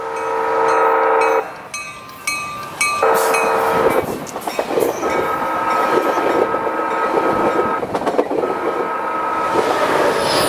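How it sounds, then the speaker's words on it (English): A loud, sustained San Diego train horn blares in long wailing tones like a tsunami warning siren, with rumbling rail noise and clatter running underneath throughout. "I'm more a fan of the normal train horns than this tsunami warning siren thing"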